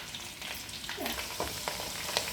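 Curry leaves fry in hot oil in a pan for a tomato pickle, a steady close sizzle with light crackles and faint stirring, no voices.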